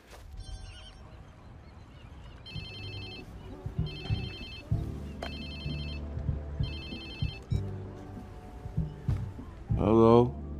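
Phone ringing inside a Watch Dogs 2 game scene, sounding as repeated electronic ring bursts in evenly spaced pairs over low rumbling background noise and movement sounds.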